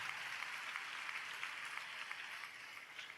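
A church congregation claps together during a sermon, a sustained, fairly faint wash of many hands applauding continuously without pause.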